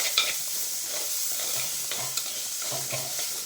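Onions sauté in a clay pot for a traditional Kerala fish curry with coriander and chilli, a soft continuous sizzle broken by repeated scraping stirs of a spoon.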